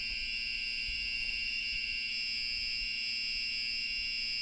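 A scooter battery monitor sounds its low-voltage alarm, a steady, shrill electronic tone holding unbroken throughout, with a faint low hum beneath.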